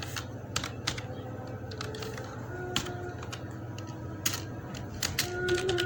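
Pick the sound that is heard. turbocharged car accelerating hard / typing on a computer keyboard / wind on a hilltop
typing on a computer keyboard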